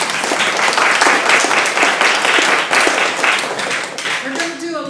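An evening crowd at a public talk about Roundup and DDT bursts into dense, loud applause with many hands clapping at once, then thins out and fades toward the end as a voice begins.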